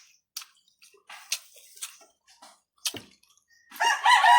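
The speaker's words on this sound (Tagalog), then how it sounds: "This is a native chicken guys." A native chicken clucks in short, scattered bursts, close and fairly soft, then breaks into a louder, sustained crow-like call at the end; no one talks.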